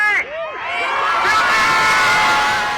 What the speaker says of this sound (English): A crowd of several hundred people that had gathered outside a fortified Hennepin County courthouse erupted in cheers when the verdict was announced.